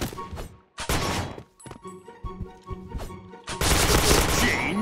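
Gunfire from a shooting video game, with several loud bursts of rapid shots, the last one sustained and dense, under sparse background game noises and brief voice activity.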